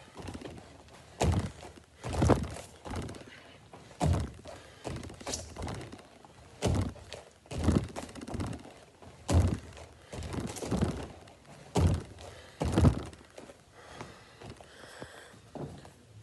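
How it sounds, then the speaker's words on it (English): People doing burpees with push-ups and jumps during a martial arts workout land in a series of dull thuds spaced about a second apart, fairly faint, with no voices. "Next one, 1 minute burpees. We go hands down, back, hit a push-up if you can,"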